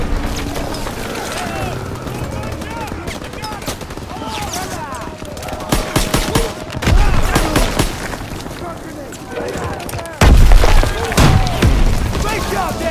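Gunfire and explosions aimed at a German Panzer tank in the Call of Duty WWII video game, dense bursts and heavy booms throughout, louder blasts near the end, with in-game voices shouting over the battle.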